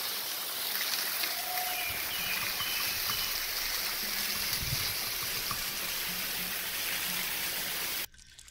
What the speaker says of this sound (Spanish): les dejo una vista de la cascada congelada